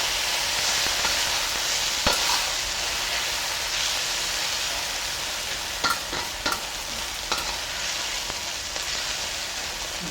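Marinated beef sizzles and hisses steadily in a hot pan, a loud continuous frying roar broken by occasional scraping clicks of stirring.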